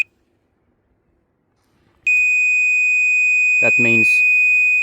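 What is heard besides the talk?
Vevor rotary laser level beeping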